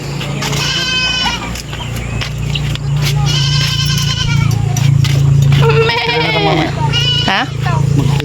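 Several goats bleat in repeated wavering cries across the clip, loud and close, over a steady low engine-like hum, with people talking intermittently and a voice nearby on a farm in Isabela.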